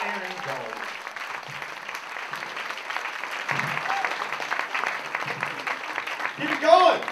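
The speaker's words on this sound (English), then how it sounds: "Big round of applause for Aaron Gold." Audience applause for a comic at a comedy club, a steady, dense wash of clapping running for several seconds with crowd noise and cheers blended in, swelling slightly near the end.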